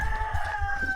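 A rooster crows as it wakes, a short, loud, sustained call held through one second, with no talk.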